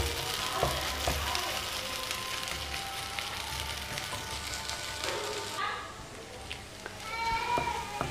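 Egg and onion frying together in a pan, a steady close sizzle running throughout with brief scraping stirs, while a person talks over it.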